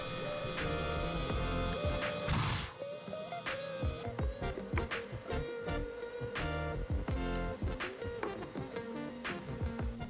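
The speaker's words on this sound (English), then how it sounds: "I realized it would be awesome to engrave the December logo on the piece, so I did that" Engraving tool cutting a logo into a workpiece for a fingerboard park build, a continuous buzzing machine whine with rapid, uneven stuttering pulses as the tool moves, loud and close throughout.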